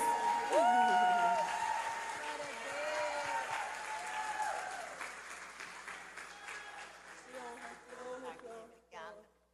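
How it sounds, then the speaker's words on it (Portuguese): Audience at a women's church conference applauding loudly, dense clapping that starts strong and slowly thins out, with voices and singing-like tones mixed in before a final few claps. "Aplauda Jesus por essas mulheres."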